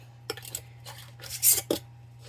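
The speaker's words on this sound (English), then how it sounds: "And tighten it, not too tight. You want to hand tighten it." A metal lid is hand-tightened onto a glass canning jar of pinto beans: a few short, close metallic scrapes and clinks in separate bursts over a low steady hum.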